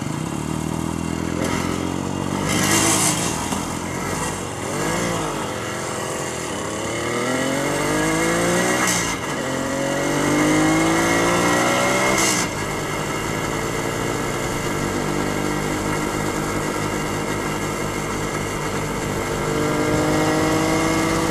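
A rough old car engine runs and revs nearby, clattering and rising and falling in pitch before settling into a steady lumpy idle.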